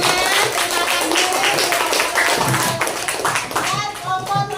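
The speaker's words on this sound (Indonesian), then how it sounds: "Tepuk tangan." A classroom group claps hands together after a student answers, a steady patter of clapping with children's voices and talk mixed in throughout.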